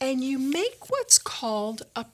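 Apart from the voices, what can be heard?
No distinct noise like a dog, phone or traffic.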